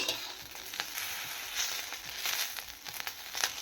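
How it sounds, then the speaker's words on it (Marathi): Green chilies frying in a hot pan over a medium gas flame, a faint, continuous crackling sizzle with small pops, close by and without talk. "तुम्ही बघू शकता मिरच्या फ्राय झालेल्या आहेत, त्यांना चांगले डाग पडलेले आहेत."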